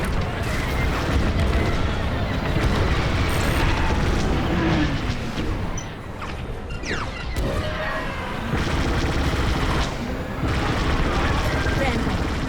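Laser blaster fire from enemy TIE fighters in the space combat game Star Wars: Squadrons, a dense run of sharp zaps and bursts over loud engine roar and explosions, with a voice talking over it throughout.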